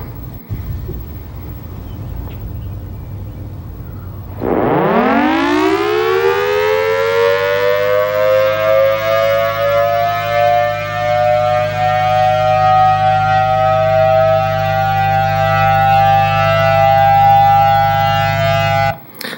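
An outdoor civil defense warning siren in alert mode starts after a quiet stretch, sweeping quickly up in pitch and then holding a loud, steady wail for about fifteen seconds, with faint background noise and no talk.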